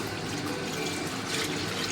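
Watermelon liquid pours steadily into a wok, a continuous splashing wash of sound lasting a couple of seconds.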